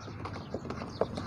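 A mare's hooves strike the ground in a few faint, light clip-clop knocks over a second or so, heard without talk.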